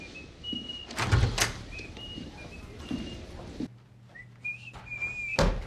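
Someone whistles a bouncy tune in short phrases, alongside a couple of thumps and a sliding door sound.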